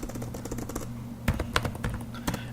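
A computer keyboard clicks as a terminal command is typed, a quick irregular run of light, close keystrokes with small pauses between bursts.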